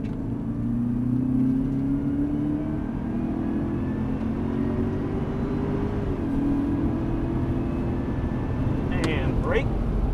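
A Cadillac CTS-V accelerating on the Auto Club Speedway race track, its engine rising steadily in pitch as a loud, continuous roar from inside the car, with a brief lower shift near the end.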